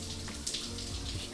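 Hot water runs steadily from a tap into a basin, a continuous close splashing rush with no voices over it.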